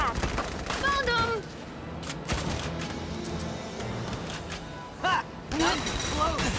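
Gunfire in Valkyria Chronicles 4 during a battle, with bursts of shots and sharp cracks over game music and effects. A voice talks in places.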